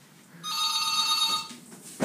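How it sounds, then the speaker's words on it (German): A telephone rings once with a bright, electronic warbling tone lasting about a second, clear and fairly close, followed by a short rustle. "Telefon."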